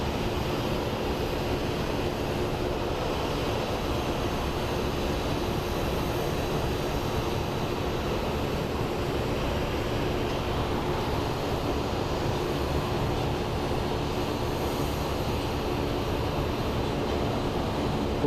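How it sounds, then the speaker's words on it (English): A Southwest Boeing 737 jet at Phoenix Sky Harbor airport gives a steady, broad engine roar that holds for the whole stretch, distant and even with no talk over it. "And up next is a Southwest 737 off to Portland."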